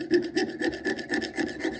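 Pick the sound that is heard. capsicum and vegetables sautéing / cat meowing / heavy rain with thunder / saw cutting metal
saw cutting metal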